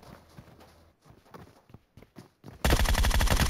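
Gunfire from the battle royale game PUBG on the Vikendi snow map: a loud, dense burst of rapid shots hits suddenly after a stretch of quieter game sounds and footsteps, then keeps going until the end.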